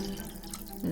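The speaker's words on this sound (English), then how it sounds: "I'm going to add water almost to the top." Water pours into a cup for a Walking Rainbow science demonstration, a brief close trickle that rises in pitch as it fills, with no one talking.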